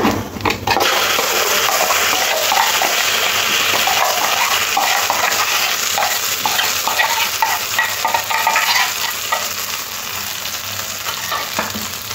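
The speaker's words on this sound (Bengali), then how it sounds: "এরপর এটা খুব ভালো করে নেড়ে নেড়ে শুকনো করে নিতে হবে" Pea kachori filling with black cumin is stirred in hot oil in a wok, a loud, close, continuous sizzle with rough scraping and rustling from the spatula, easing slightly toward the end.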